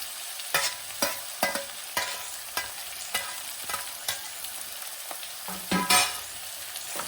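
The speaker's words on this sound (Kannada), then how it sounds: "ಇದನ್ನು 1 ನಿಮಿಷ ಬಾಡಿಸ್ಕೊಳ್ಳೋಣ ಎಲ್ಲ ಜೊತೆನಲ್ಲೇ." Curry leaves, garlic and chillies fry in hot oil with a constant soft sizzle, punctuated by a series of sharp scraping stirs of a spoon against the pan, roughly one every half second to second, close and clear.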